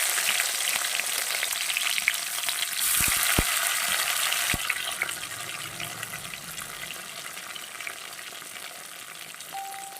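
Onion, tomato and cumin frying in a pan, a continuous bright sizzle with a couple of utensil knocks early on, steady and close throughout.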